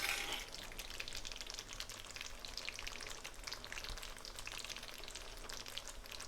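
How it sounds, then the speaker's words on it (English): Cream added to a pan of Mughlai chicken curry, the sauce frying with a dense, steady sizzle and crackle that stays close and even from start to finish, no voices. "So I'm just going to add some cream now."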